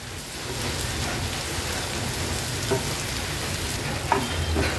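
Prawns frying in butter with garlic over a medium flame give off a dense, steady sizzle, close and continuous, with a couple of faint clicks of turning partway through.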